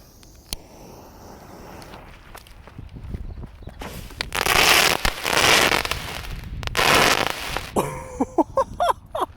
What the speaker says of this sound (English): All right, here goes 3 jumbo crackling balls.